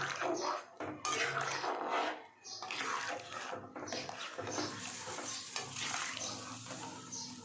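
A spoon stirs chicken soup with a beaten egg in a pot, giving a steady wet swishing and bubbling that goes on continuously with faint clinks against the pot.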